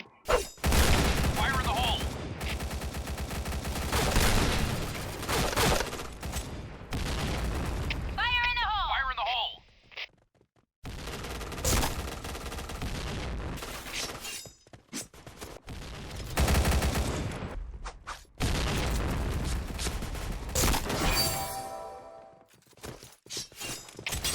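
Suppressed P90 submachine gun fire in the shooter game Point Blank: rapid muffled bursts repeat across the scene alongside other game effects, with one short quiet gap partway through.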